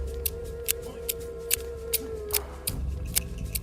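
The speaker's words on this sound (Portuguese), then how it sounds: "A tesoura rangia" Scissors snipping through a lion's mane, heard as a series of sharp, regular crisp clicks about every half second over a low murmuring background with a faint steady hum.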